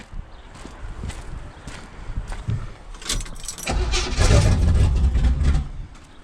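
A drag truck's engine cranks and fires up, with clicks and rattles leading into a loud, rumbling idle close by.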